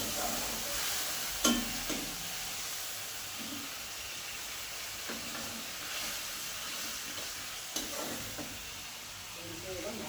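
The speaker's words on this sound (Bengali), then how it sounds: "আবার এটাকে ভালো করে নাড়িয়ে নিচ্ছি।" Fish curry masala stirred in a pan, a steady sizzle and hiss running throughout with a few sharp scrapes and clinks of the spoon against the pan; fairly close and continuous, with no voices.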